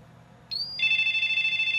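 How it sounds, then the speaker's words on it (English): In the video game Pango, played on a Vendex Headstart II computer, a phone-like electronic ring starts as a short high beep and then steps into a steady, warbling tone that sounds alone and fairly loud. "Sounds like a phone ringing."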